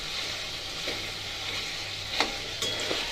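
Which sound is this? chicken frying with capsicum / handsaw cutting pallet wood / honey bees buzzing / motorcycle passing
chicken frying with capsicum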